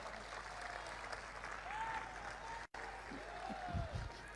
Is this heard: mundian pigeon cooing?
no